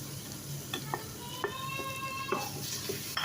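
Spiced minced meat (keema) frying in a pan as a spoon stirs it, a steady sizzle broken by several short scraping knocks of the spoon against the pan, close and clear with no talking.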